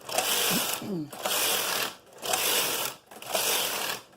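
KnitKing bulky knitting machine knitting tuck rows, its carriage swept back and forth in four sustained mechanical clattering passes separated by brief pauses, close and fairly loud.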